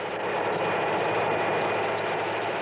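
A big diesel engine of up to 1,000 horsepower on a heavy earthmoving equipment rig drones in a steady, loud, unbroken rumble from start to finish, with no voices.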